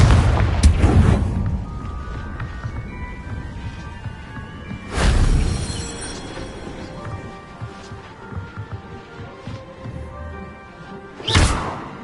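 Confringo fire spell blasts in Hogwarts Legacy, three sharp booming explosions spaced several seconds apart, each with a whooshing burst, over a quieter bed of game sound with no talk.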